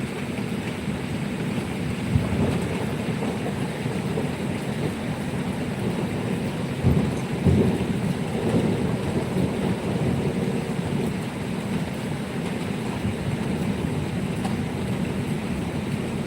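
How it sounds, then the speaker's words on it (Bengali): Heavy rain falls in a constant dense hiss, joined partway through by a low rumble of thunder that swells briefly and fades back into the steady downpour. "আজকে আমাদের এখানে প্রচুর বৃষ্টি হচ্ছে"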